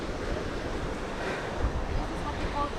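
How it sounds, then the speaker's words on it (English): Big ocean waves surge and break near rocks, a continuous loud wash of surf with wind buffeting the microphone. "And the waves are big. It's gonna smash us on the rocks."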